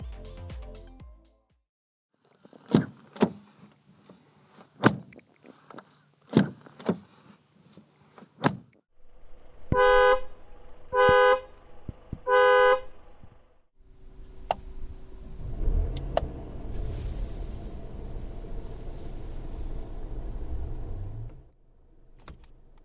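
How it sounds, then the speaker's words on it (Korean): A new Mercedes-Benz E-Class gives off a run of quiet close cabin and body sounds: soft clicks and thumps, three short bright electronic chimes, then a low rushing hum that fades out. "잠시 신형 E클래스가 들려주는 감성 측면의 소리를 들어볼까요?"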